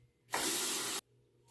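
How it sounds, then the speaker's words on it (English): A tap runs for a rinse after a shave, a steady broadband rush of water that starts abruptly, lasts under a second and cuts off cleanly, close and alone. "I'm going to go ahead and rinse."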